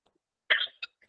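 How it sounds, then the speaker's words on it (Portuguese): A single harsh cough from an adult speaker, followed by a couple of short throaty catches, close and brief against silence. "quando eu falo demais, começa a dar tosse"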